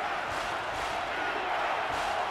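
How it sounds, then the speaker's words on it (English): Stadium crowd in the NCAA Football 22 video game during an Oregon at Ohio State simulated game, a steady, dense roar that swells and holds throughout, loud and continuous with no break. "It's arguably the loudest crowd in the nation, and they are turning it up a notch."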